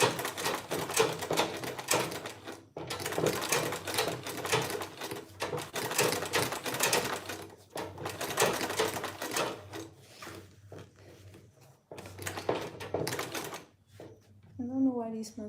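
Sewing machine running in bursts during a beginners' bag-making session, the machine shaking as it stitches; loud rattling mechanical runs stop and start several times, with a voice speaking briefly near the end.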